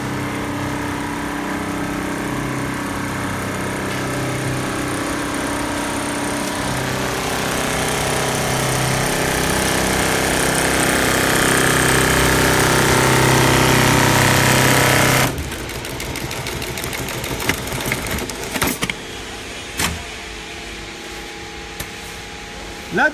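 A sewing machine stitching panels of Dickson awning fabric runs in one long steady whir that swells over about fifteen seconds, then stops, leaving faint clicks and handling noises.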